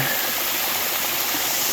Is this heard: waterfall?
yes